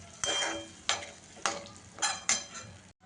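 A spatula sweeps through vegetable manchurian gravy thickened with flour and cornflour in a pan, giving four or five rhythmic scraping strokes over a soft sizzle, close and fairly quiet.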